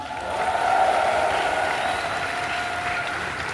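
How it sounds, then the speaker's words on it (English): A Dragon Con panel audience breaks into steady applause, dense clapping from a large crowd in an indoor hall, swelling briefly and then holding. "Round of applause for NAMI."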